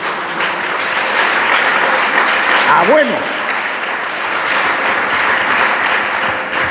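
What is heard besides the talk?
congregation applauding in church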